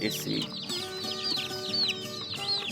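Free-range chickens and chicks cluck and peep continuously in a pen as they are caught, with rooster-like calls and chirps layered over a steady farmyard hum.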